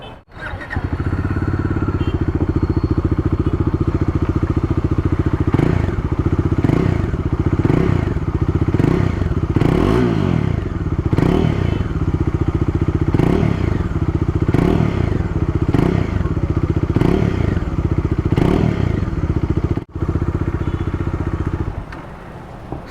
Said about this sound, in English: let's hear the exhaust note of the motorcycle now